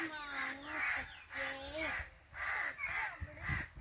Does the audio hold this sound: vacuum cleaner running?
no